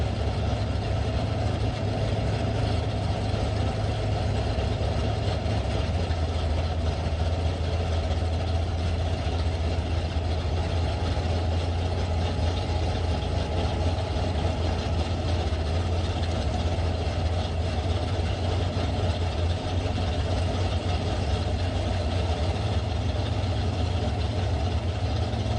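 Mopar drag race cars idle at the strip, a steady, heavy low-pitched rumble that holds constant throughout at moderate distance.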